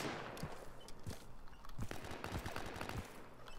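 Rapid gunfire in the tactical shooter game Insurgency during a co-op match, with repeated sharp shots and bursts cracking close by and farther off over a steady low rumble, sometimes overlapping.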